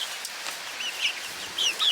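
A flock of backyard chickens clucks, about 25 hens with one rooster, making a dense, bright chatter of overlapping calls nearby.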